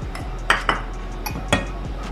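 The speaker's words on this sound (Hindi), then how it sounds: "ये रहा मेरा नॉनस्टिक तवा, जो कि हल्का गर्म हो रहा है" A nonstick griddle (tava) warming on a gas stove is handled, giving several close, sharp metallic clanks and knocks spaced over a couple of seconds.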